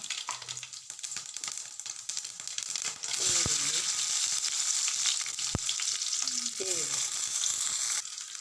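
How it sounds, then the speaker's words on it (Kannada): Mustard seeds frying in hot oil for tempering a mango curry, a steady close sizzle with brief spoon scrapes and faint pops, a voice speaking briefly partway through. "ಎಣ್ಣೆ ಕಾಯಿ ತಗೊಂಡು ಈಗ ಸಾಸಿವೆ ಹಾಕುವ"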